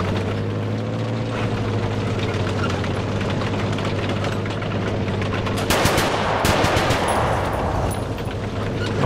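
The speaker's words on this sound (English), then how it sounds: "He sees an enemy vehicle there, he aims, and shoots it straight away" Rapid bursts of vehicle gunfire in the War Thunder video game, dense and loud over a steady low engine drone, with a heavier cluster of shots near the end.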